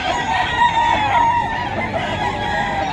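Roosters crow at a Philippine pet and poultry market in Bocaue, Bulacan, before dawn, several loud overlapping calls rising close by over a steady market din.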